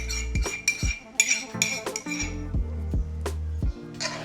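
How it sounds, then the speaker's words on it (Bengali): Metal spoon clinks and scrapes around a pot while yogurt marinade for kacchi biryani is stirred, with a series of irregular close taps and knocks and no voices. "সবগুলোকে একসাথে ভালোভাবে মিশিয়ে"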